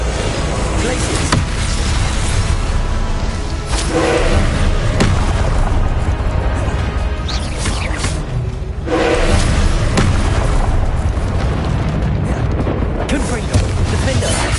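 Confringo fire spells blasting in Hogwarts Legacy combat on PS5 Pro, a dense run of loud booms and thuds piling over a constant roar of battle noise, close and forceful, with voices speaking throughout.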